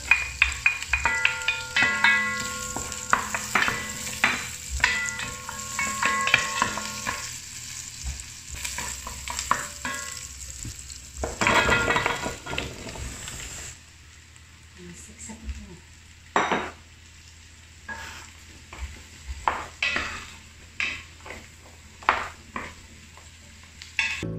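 Garlic frying in a pan while making pumpkin soup with crispy bacon: continuous sizzle with frequent spatula scrapes and clinks of cookware, close by, dropping to a quieter sizzle with scattered stirring knocks in the second half.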